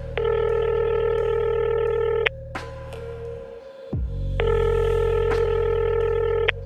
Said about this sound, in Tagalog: Patuloy lang yung nagri-ring